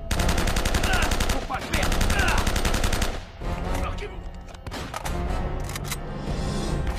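Rapid automatic gunfire from the video game Uncharted: loud continuous bursts, then a pause, then scattered single shots and shorter volleys over a dense game soundscape.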